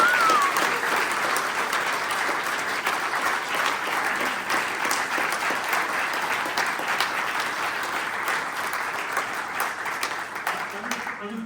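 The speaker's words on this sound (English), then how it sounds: "So, a massive round of applause for all 4 of us." Steady, sustained applause from an audience honoring the speakers at an online student debate, a dense even patter of many hands clapping that holds at a constant level throughout.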